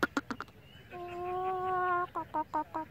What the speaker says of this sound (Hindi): अब ये फिर बांग देगा।